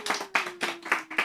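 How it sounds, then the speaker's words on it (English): Studio audience clapping in five or six short, loud bursts of hand claps, each quickly fading, on a talk-show set. "Can I get a clap from the studio audience?"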